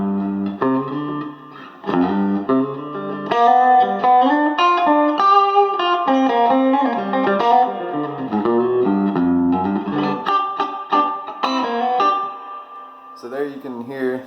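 Electric guitar on the middle pickup, tone and volume fully up, played straight into a Fender amp with a bright, slightly overdriven tone, a continuous melodic line of single notes and chords, with a brief pause near the end.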